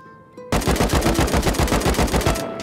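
Rapid automatic gunfire in the video game Rust, a steady burst of about twenty loud evenly spaced shots lasting around two seconds, close and alone.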